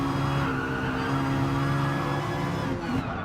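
Race car engines in the GT Sport video game drone loud and steady, several cars close together with tonal engine whine holding throughout and a hint of tire squeal, no talk.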